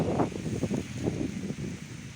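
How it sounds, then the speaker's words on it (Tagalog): Gusty wind buffets the microphone in broad rumbling surges, steady and fairly loud, with no voices. "mahangin na napakahangin ah"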